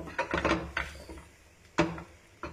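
A spoon knocks and scrapes in a pan while pork shoulder with chestnuts and rinsed olives is stirred, giving irregular close clatters and thuds with quieter stretches between them.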